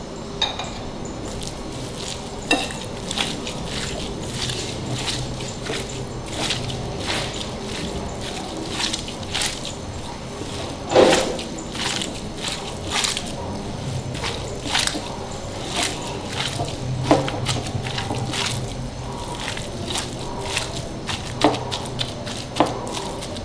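Hands mix a seekh kebab mixture of ground meat, red and black chillies, spices, salt and dried coriander: soft wet squishing and slapping in irregular bursts, close and fairly quiet.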